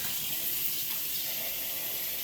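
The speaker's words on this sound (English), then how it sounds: "you want to wash them and bathe them in cold water" Steady hiss of running tap water rinsing cooked noodles for Thai drunken noodles in a sink, continuous and close with no pauses.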